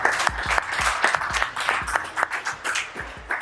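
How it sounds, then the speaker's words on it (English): A small room at a post-fight boxing press conference applauds the new unified women's world champion, scattered, fairly quiet claps with individual hand strikes distinct and uneven, no voices over them. "a round of applause for the new unified World"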